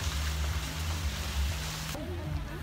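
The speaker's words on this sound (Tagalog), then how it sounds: "Ulan." Steady rain in a summer setting in Dapitan City falls as a loud, continuous hiss for about two seconds, then cuts out abruptly as a voice speaks in the final part.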